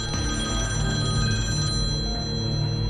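An old telephone bell rings steadily and insistently indoors, a continuous metallic trill at moderate volume with no voices over it.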